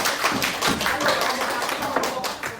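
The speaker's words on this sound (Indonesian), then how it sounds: "Kasih tepuk tangan dong." A classroom group claps in a brisk, uneven burst of applause lasting a couple of seconds, moderately loud and close.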